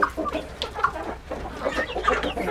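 Chickens in a coop give soft, scattered clucks and murmurs close by, overlapping in an uneven chatter.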